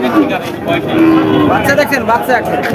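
A Deshal breed cow moos loudly and close, drawn-out low calls repeating over the clip, with voices murmuring in the background.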